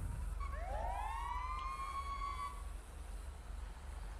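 Wailing fire truck siren in GTA V with the LSPDFR mod, sweeping up and down in pitch at moderate distance for a couple of seconds before cutting off, leaving a low steady rumble.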